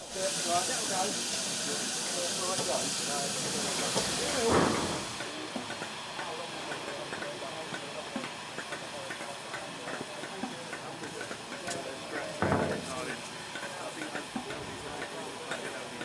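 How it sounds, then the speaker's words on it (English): Steam locomotive Britannia easing off a turntable tender first at a 2024 gala, a steady hiss of steam with two louder bursts of venting and faint rail clanks, carried on under crowd murmur in the background. "Britannia moved off the turntable, now tender first, to pick up the carriages."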